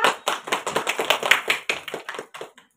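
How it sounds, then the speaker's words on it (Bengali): Children in a classroom clapping together, a run of about a dozen sharp, evenly spaced claps that loosen and fade toward the end, close and clear with no talk. "হাততালি দাও"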